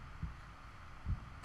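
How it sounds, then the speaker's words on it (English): A low, muffled heartbeat thumps in the OMORI video game, three soft beats spaced about a second apart over a quiet ambient hum. "I do hear a heartbeat in my brain, though, that I don't love"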